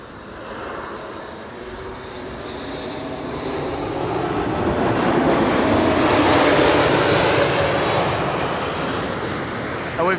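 A Boeing 747 lands on the Kaagbaan runway at Schiphol, its loud engine roar swelling steadily as it passes close overhead, peaking and then slowly fading, with no voices.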